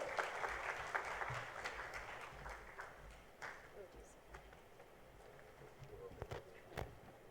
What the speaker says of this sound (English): Can we hear a big round of applause for him?